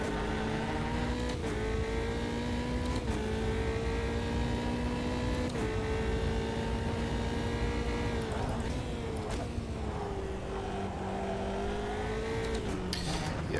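Formula 3 race car in Automobilista 2 at Donington, its high-revving engine whining steadily with repeated upshifts and brief rev drops, loud and continuous throughout.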